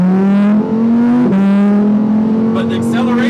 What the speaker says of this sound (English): the acceleration, the sound, that engine, listen to this engine